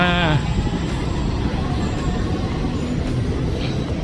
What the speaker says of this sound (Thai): อุ้ยรถไฟฟ้ามา